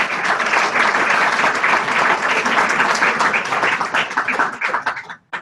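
Audience applause at a policy webinar, a dense burst of many hands clapping loudly at once, holding steady for about five seconds before cutting off abruptly.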